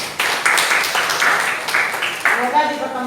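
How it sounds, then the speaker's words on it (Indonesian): A classroom group claps in short bursts that stop and start again, with voices mixed in under the applause. "Tepuk tangan buat kita semua."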